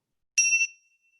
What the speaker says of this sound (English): Feel the vibration of the bell.